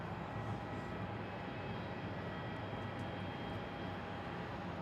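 A Qantas Boeing 737-800 arriving from Brisbane lands on runway 27 at Melbourne Airport, a steady broad engine roar holding at even loudness throughout, distant and continuous with no voices.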